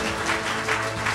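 A gala concert audience applauds in a steady, dense wash of clapping, moderately loud and continuous with no voices on top.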